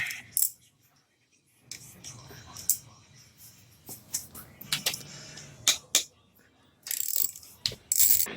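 A ratchet works 8 mm bolts off the slave cylinder of a 1984 Honda Nighthawk 700S motorcycle, giving short bursts of clicking pawl and metallic clinks between quiet pauses, with faint murmured talk nearby.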